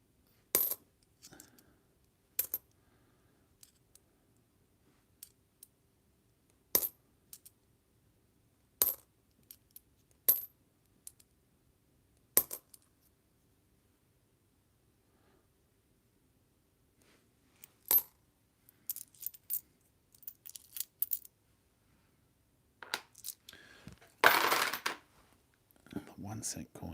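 Two-cent coins, including a 1969 piece, are handled and dropped onto a pile one at a time, giving sharp isolated metallic clinks spaced irregularly, followed by a denser burst of jingling and shuffling near the end.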